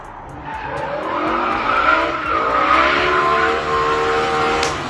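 A BMW E60 M5 engine roars loudly and steadily, its pitch sweeping up and down as it revs, with a tire-squeal-like edge throughout.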